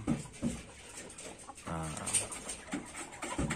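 Free-range native village chickens cluck in short, scattered bursts close by, with a few louder calls standing out over steady outdoor background noise.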